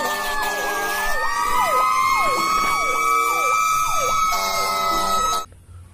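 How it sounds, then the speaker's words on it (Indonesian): Toy fire truck siren wailing in a repeating rise-and-fall pattern, loud and close, with a steady high electronic tone running underneath, playing alone for about five seconds before cutting off abruptly. "Ini adalah mobil pemadam kebakaran."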